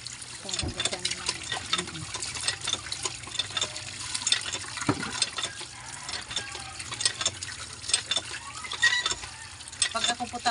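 Fresh tilapia being washed by hand in a basin of water, with steady sloshing, splashing and trickling close by while someone talks over it.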